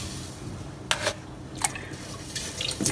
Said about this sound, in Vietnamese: Em hứng một thau nước đầy nè